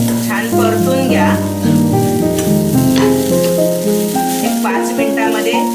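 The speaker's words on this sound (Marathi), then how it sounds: "हे गूळ आणि खोबरं थोडासा गूळ वितळेपर्यंत छान परतून घ्या।" Jaggery and grated coconut are sautéed together in a pan until the jaggery melts, with a continuous sizzle and stirring beneath prominent background music.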